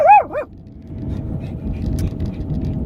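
A dog gives one quick pair of high, rising-and-falling yelping barks close by, followed by a low, steady rumble in the background.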